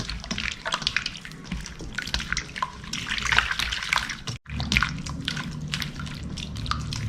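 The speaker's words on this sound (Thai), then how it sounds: "ก็เติมน้ำลงไปอีก ค่อยๆนะครับท่านผู้ชมค่อยๆเติมนะครับ" Water is added slowly to pork cooking in a pot, giving a steady close trickle and drip with small splashes and a brief break partway through.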